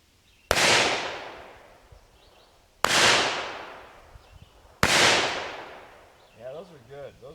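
Three loud, sharp gunshots from a .38 caliber firing hand-loaded copper plated bullets, evenly spaced about two seconds apart with ringing echo tails, followed by a brief voice at the end.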